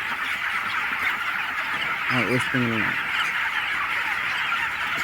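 A dense, steady chatter of about 10,000 Andhra Pradesh chickens fills a large poultry house, with a short burst of louder honking calls midway and a voice briefly speaking.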